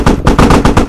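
A T-72 tank in a video game fires at an anti-tank gun, a loud, close burst of rapid automatic gunfire with about six sharp shots in under a second.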